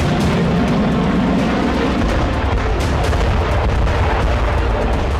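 Cluster bomb explosions in the Russia–Ukraine conflict, a loud continuous barrage of overlapping blasts and crackling bursts with no pause, dense and heavy throughout.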